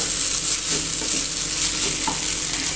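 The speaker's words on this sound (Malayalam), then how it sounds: "ലോ ഫ്ലെയിമിൽ മിക്സ് ചെയ്തെടുത്താൽ മതി." Upma being stirred with curry leaves in a pan over a low flame, a steady soft sizzle with scraping stir strokes throughout, close and alone with no talk.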